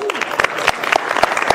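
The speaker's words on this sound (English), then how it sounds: "feel free to give them a round of applause" Applause for graduating seniors at a welcome event, a dense wash of clapping from a crowd with occasional sharper claps and a whoop or two mixed in, steady throughout.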